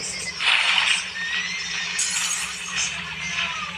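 A horse whinnies in a battle royale video game, a high neigh rising over steady game ambience near the start, with faint clinks and background noise through the rest.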